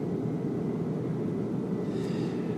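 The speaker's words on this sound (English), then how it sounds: "I'm on the train in Switzerland, so apologies for any background noise" Low, steady rumble inside a moving train in Switzerland, a constant droning hum with no distinct events, close and unbroken.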